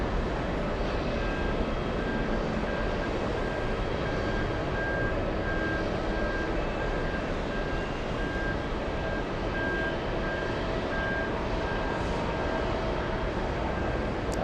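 A jet airliner bound for Oslo, Norway, taking off from JFK, heard through the TWA Hotel glass as a steady, continuous engine roar with a faint tone, distant and unbroken.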